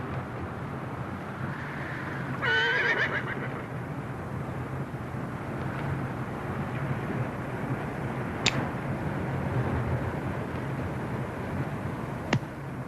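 A horse gives one short, wavering neigh in an outdoor Western film scene, set against a steady background hiss with faint scattered knocks afterward.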